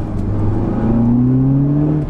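A remapped Audi S1 accelerates hard, its engine note climbing steadily in pitch over about two seconds, loud and close from inside the car, with no talking.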